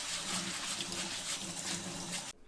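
Steady running water splashes and gushes continuously, close by, from a tap pouring over rice being rinsed in a bowl.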